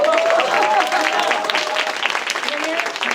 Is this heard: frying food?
no